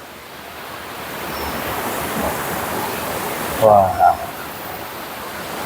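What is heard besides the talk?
waterfall water splashing, Watu Ondo, Cangar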